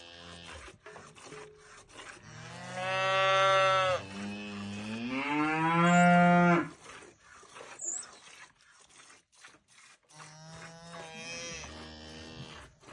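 Cattle on a village farm low loudly, with two long drawn-out moos close together and then a softer, shorter moo a few seconds later over quiet rustling.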